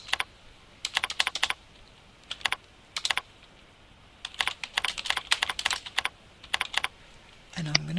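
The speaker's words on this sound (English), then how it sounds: "I'm just going to change my comment by double clicking on it and typing in here" Quick bursts of typing on a computer keyboard, close and crisp, with short pauses between clusters of key clicks and a brief low voice near the end.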